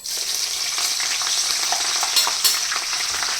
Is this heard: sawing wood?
no